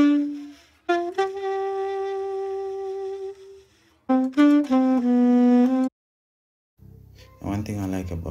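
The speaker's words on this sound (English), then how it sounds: "I actually found this saxophone loop" A dry saxophone loop with no added effects plays rich, reedy held notes and a run of quicker phrases, broken by short gaps, loud and alone.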